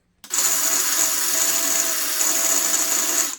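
Popcorn being ground at high speed in a grinder for 1940s-style popcorn muffins, a loud steady whir that starts abruptly and holds without a break, with a bright hissing edge.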